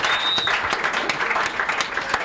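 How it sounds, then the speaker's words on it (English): A crowd claps briefly and steadily in a radio or studio programme setting, a short burst of applause with no talk over it. "Make una clap for daddy"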